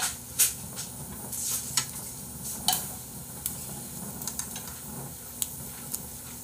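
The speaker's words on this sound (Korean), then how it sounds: "지글지글 하고 있어." Meat grilling at home on a pan, a quiet steady sizzle with scattered sharp pops and crackles of spitting fat, close and alone with no talk.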